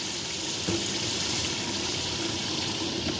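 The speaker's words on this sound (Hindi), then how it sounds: "मैंने इसमें एक से डेढ़ गिलास मैंने पानी डाल दिया है इसमें" Water gushes steadily into a cooking pot of chole biryani with chickpeas, spices and rice, a continuous close rushing splash with no talk.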